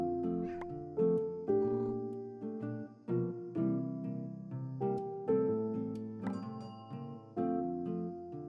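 An adoptable cat in a video game meows repeatedly to ask for more pets, giving a string of clear, close, drawn-out mews in an uneven rhythm with short pauses between them.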